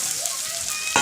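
Spices frying and being stirred in a pan with salt and chili powder, a steady close sizzle with a sharper stir or scrape near the end.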